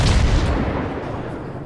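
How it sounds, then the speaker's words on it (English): Ship guns firing at a destroyer in World of Warships: a loud, deep rumbling boom that rolls and fades over under two seconds, close and heavy with no voices. "So I just continue to fire my guns at him, trying to do as much damage as I can"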